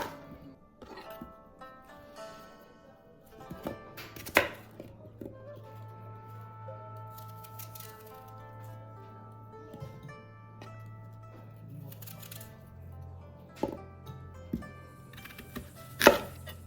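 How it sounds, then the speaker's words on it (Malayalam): A knife cuts a peeled apple into small pieces, with sparse sharp taps on a cutting board scattered under steady background music, the loudest tap near the end. "ഇനി ഞാനിതൊന്ന് ചെറിയ പീസസായിട്ട് കട്ട് ചെയ്യുകയാണ്."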